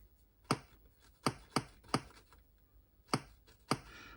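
Keys tapped on a Micron ZX Spectrum clone keyboard with its plastic layers removed, six sharp separate clicks spaced unevenly, close and clear over a quiet background.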